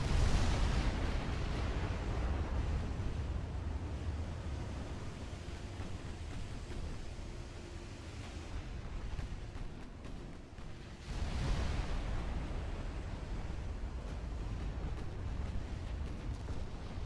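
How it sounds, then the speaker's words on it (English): Torpedoes launched at a cluster of warships in the naval combat game Ultimate Admiral Dreadnoughts: deep, roaring broadband booms, one at the start and another about eleven seconds in, with continuous rumbling noise between them. "I'm going to fire these torpedoes at the clump"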